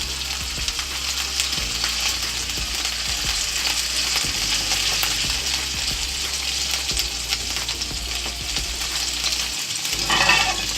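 Rabbit pieces fry in hot fat in a pan, making a dense, steady sizzle and crackle up close, with occasional stirring noises and no voices.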